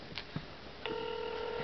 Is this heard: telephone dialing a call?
yes